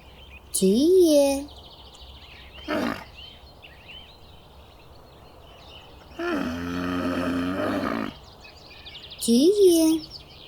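A camel lets out a brief grunt, then after a pause one sustained, rough bellowing groan, with short tonal calls at the start and end.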